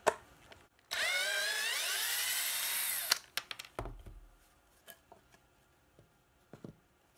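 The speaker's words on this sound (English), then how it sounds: "I think we can do it a little bit faster if I use the drill." A power drill whines steadily for about two seconds during woodworking, then stops, followed by scattered knocks and light handling clatter in a quiet workshop.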